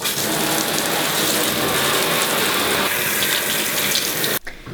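Tap water runs hard while hair is rinsed under it, making a loud, close, continuous splashing rush that cuts off abruptly near the end.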